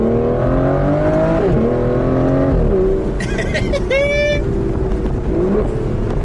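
A V12 Aston Martin Vanquish convertible accelerates on the road, its engine note rising loud and close through a rapid gear change before pulling again, with a voice speaking briefly over it.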